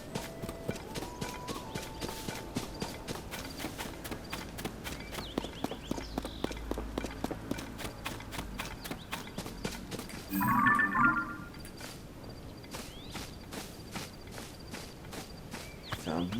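Horse hooves clip-clop at a steady walking rhythm in Zelda: Tears of the Kingdom, close and continuous along with game sounds and a short burst of other noise partway through.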